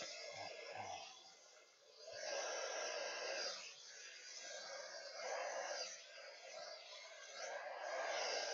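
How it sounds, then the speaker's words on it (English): A hair dryer drying paint blows steadily throughout with a constant airy whoosh, swelling and dipping slightly as it moves, with faint handling noises early on. "as I'm working through this with the blow dryer on"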